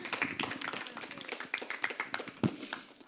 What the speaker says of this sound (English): Come on, clap like you mean it.